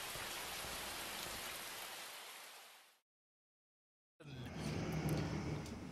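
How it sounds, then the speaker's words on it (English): Steady hiss of rain falling in the Minecraft video game, dense and even for about three seconds before cutting to silence, then resuming as a rougher, lower wash of noise. "Oh, looks like the rain stopped."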